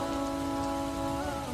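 Steady rain falling on a surface, a dense continuous patter with no voices, alongside a sustained tonal hum layered over it.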